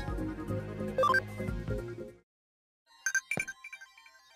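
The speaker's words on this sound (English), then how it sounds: "Oh, got a notification." A short electronic notification chime from the Digimon Story: Cyber Sleuth video game, a few quick bright tones sounding clearly after a moment of silence, following earlier game music.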